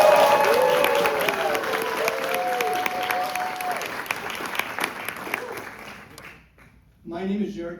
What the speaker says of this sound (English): We need the clapping. Give it up for Prove It Out!